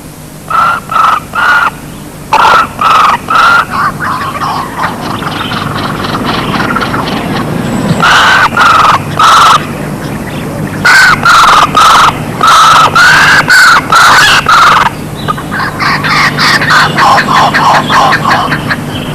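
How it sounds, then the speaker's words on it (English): Kookaburra chicks at the edge of a nest hollow call insistently for food, a series of loud, rhythmic raucous bursts repeated in clusters over a steady low background rumble. "the chicks have shifted to the edge of the hollow and literally demand their food"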